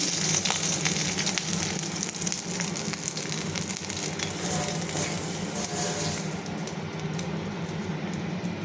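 Fish-curry cooking at the stove with oil frying in a pan: a steady, even sizzle and crackle runs throughout at moderate level, with no talk over it.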